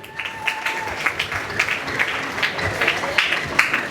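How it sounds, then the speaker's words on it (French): An audience applauds the jury members of a school literary competition, a steady moderate patter of many hands clapping with faint voices beneath. "On applaudit encore pour eux."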